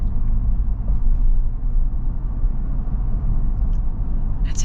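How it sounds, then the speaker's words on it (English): A lifted 2025 Toyota Land Cruiser accelerates, heard from inside as a steady, heavy low engine and road rumble that holds throughout with no talking. "You definitely feel like you've got to get into the throttle a little bit more to get the Land Cruiser up and moving."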